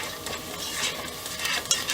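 A spoon steadily stirs roux and onions in a pot for a cauliflower soup, giving a soft continuous scraping with a light sizzle underneath. No one speaks.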